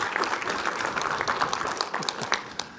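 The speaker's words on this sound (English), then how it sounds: "I appreciate that round of applause as well" A round of applause for NCOs at an Army Reserve panel: a crowd clapping with individual sharp claps standing out from a looser, thinner patter, moderately loud and brief.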